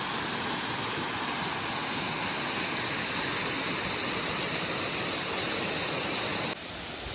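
An unnamed waterfall on the way to the Şicir falls near Astara roars in a steady, dense rush of falling water, loud and continuous throughout, cutting off abruptly near the end.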